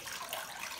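Water running steadily from household taps during a combi boiler hot water test, a soft continuous hiss of flow, close and fairly faint, with no talking.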